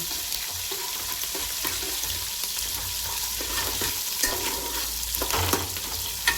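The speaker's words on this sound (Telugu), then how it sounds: "ఉల్లిపాయలు పచ్చిమిరకాయలు ఫస్ట్ వేసింది వేగిన తర్వాత" Onions and green chillies fry in a pan for a Sunday biryani and chicken curry meal, a steady close sizzle with occasional stirring scrapes and small pops, no voices.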